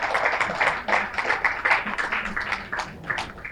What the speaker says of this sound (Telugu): వాళ్ళందరికీ గట్టిగా ఒకసారి క్లాప్స్ కొట్టుకుందాము